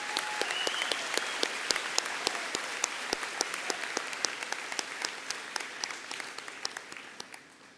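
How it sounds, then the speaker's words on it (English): At a 2026 high school graduation ceremony, a gathered audience applauds a row of graduates with steady, moderately distant clapping and a few crisp nearby claps, tapering slightly toward the end. "Let's have a round of applause for this row of graduates."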